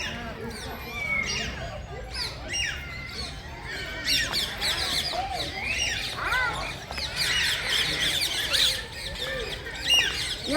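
Birds squawking and chirping, among them parrots, with harsh repeated calls overlapping near and far, growing denser later, while people talk and children's voices mix in underneath.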